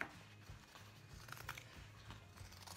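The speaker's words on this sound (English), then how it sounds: "My scissors are getting blunt because I've been doing so much." Blunt scissors snip quietly at fabric corners while sewing a tic-tac-toe play mat, giving a few soft, irregular cuts and rustles close by at low volume.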